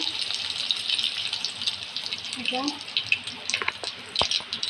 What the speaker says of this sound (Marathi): आता तेल तापलेलं असा तर आपण मोहरी घालूया त्याच्यात थोडी